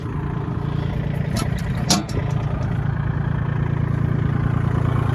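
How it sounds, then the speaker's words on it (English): A small Kubota four-wheel-drive tractor fitted with a tiny tiller during fall tillage, its engine running in a steady low rumble throughout with a brief clatter partway through, close and continuous. "It's a nice little Kubota tractor, 4-wheel drive. It's just got a tiny little tiller on it."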